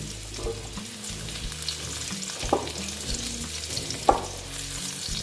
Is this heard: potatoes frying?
yes